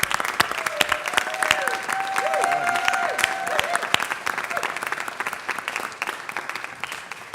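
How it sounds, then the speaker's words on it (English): Crowd applause for Chuck and his group fills the room, dense clapping that swells and then thins into scattered claps, with a voice speaking over it midway. "let's give Chuck and the group another round of applause"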